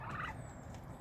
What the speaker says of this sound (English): The turkeys are midget whites